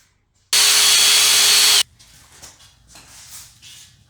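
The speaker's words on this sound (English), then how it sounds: "I'm just marking out where the holes are going to be. Drill that out" Power drill boring a hole for a roof rack on a 3rd gen 4Runner, one loud, close burst lasting just over a second, followed by faint handling noises.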